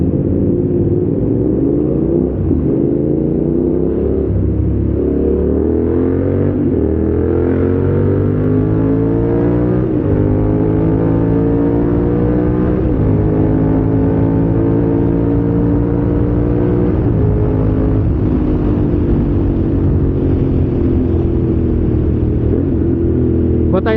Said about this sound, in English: I love how responsive the throttle is and how the engine responds to its input